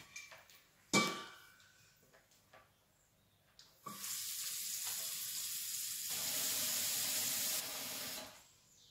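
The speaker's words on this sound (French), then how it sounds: "il faut une grande casserole que je vais remplir" After a few clanks of a pot, tap water gushes steadily into a large pan for several seconds, the pitch shifting as it fills, then stops.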